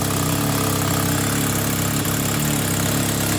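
A Toyota MR2 turbo with a 2ZZ-GE engine idles through an open exhaust, a loud, close, steady throbbing rumble with no voices.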